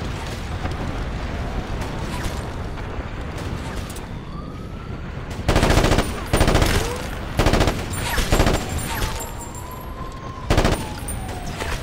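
Automatic gunfire in the video game Ghost Recon Advanced Warfighter, with several loud bursts of rapid shots breaking out after a quieter stretch of battlefield rumble, one final burst near the end.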